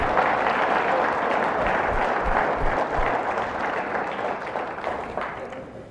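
Audience applause at the DBPPA Converge North America conference: dense, steady clapping from a large crowd that fills the whole stretch and slowly tapers toward the end.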